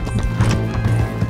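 A horse in the video game Red Dead Redemption 2 gallops, its close, loud hoofbeats clopping in a rapid rhythm with neighing mixed in.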